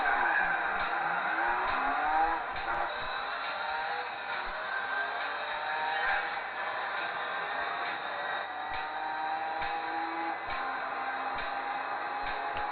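A Chevelle SS engine revving and climbing through the gears in the video game Gran Turismo 4, a steady droning engine note with repeated rises and dips as it shifts, continuous and moderately loud.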